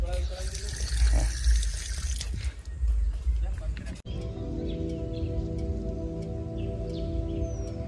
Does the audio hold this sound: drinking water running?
yes